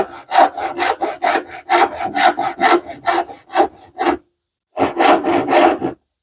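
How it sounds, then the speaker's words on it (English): Hand saw cutting through wood for a dovetail joint, a close, loud series of rapid rasping strokes in steady rhythm, pausing briefly before another run of strokes. "but then I'm going to saw from the other side"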